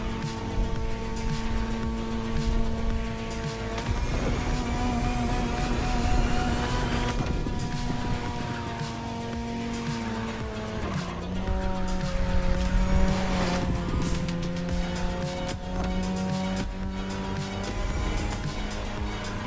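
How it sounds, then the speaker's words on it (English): A Mazda RX-7 engine in The Crew Motorfest racing game drones and wails through gear changes, with high rotary whine, tire squeals and skids over a busy, continuous mix. "I love the way the RX-7 sounds in this game."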